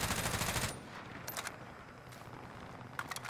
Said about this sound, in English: Why are you shooting so much bullets into like nowhere?